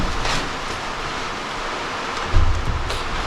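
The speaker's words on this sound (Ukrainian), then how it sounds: "вже град падає" Hail falling outdoors: a dense, steady hiss of pellets pattering, fairly loud and even, with a couple of heavier low thumps near the end and no talk.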